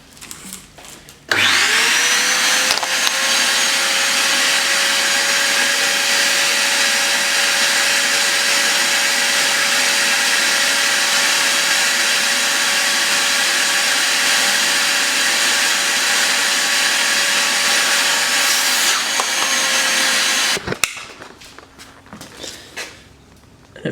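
A vacuum cleaner sucks brake fluid out of a reservoir during a Wilwood brake upgrade, switching on with a loud, steady high whine that runs for about twenty seconds before cutting off, followed by faint handling noises.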